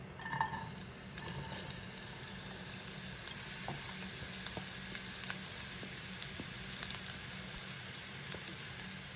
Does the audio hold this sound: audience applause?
no